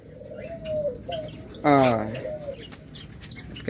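Pet cage birds, lovebirds or budgerigars, give one short, loud, harmonic call midway, with softer chirps and a faint voice or two in the background.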